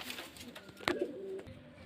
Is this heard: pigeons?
yes